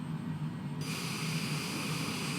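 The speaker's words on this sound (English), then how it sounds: "let's bring in the reverse thrusters and cut engine" A jet aircraft engine with reverse thrusters holds a steady, loud roar, a dense even rush with a low hum underneath that brightens and widens partway through.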